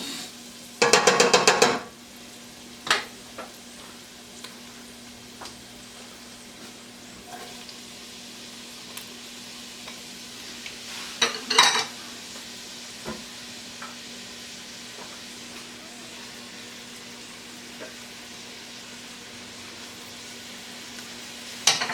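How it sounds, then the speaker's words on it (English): Onions frying in a pan for a Bolognese sauce, a soft continuous sizzle with a loud hiss burst as they land, then occasional spoon scrapes and knocks while stirring, another flare of sizzling midway, no one speaking. "Now we're going to add our onions."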